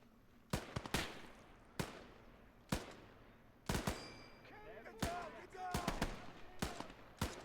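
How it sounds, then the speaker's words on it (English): Machine gun fire in the World War II game Gates of Hell: Ostfront, sharp separate cracks and short bursts that grow busier toward the end, with someone talking faintly underneath. "Machine gun."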